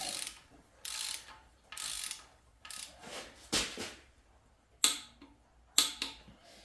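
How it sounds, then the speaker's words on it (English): A torque wrench ratchets in short bursts while tightening a threaded plug on an LS6 engine block, with about seven separate clicking pulls and quiet pauses between them, close and clear. "Screw that in there. Torque it to 44 foot-pounds."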